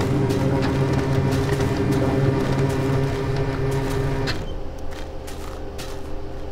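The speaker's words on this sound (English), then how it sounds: "Sorry, printer's going off." A printer runs with a steady mechanical whir and a rattling feed, loud and continuous, then drops to a softer hum with faint clicks near the end.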